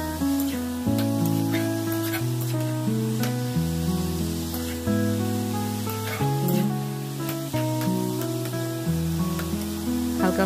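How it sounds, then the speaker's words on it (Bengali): Cabbage fries with spices in a pan, making a soft, continuous hissing sizzle that sits beneath loud, steady background music throughout. "একটু ফ্রাই হয়ে গেলে তারপর আমি মশলাগুলো দেব"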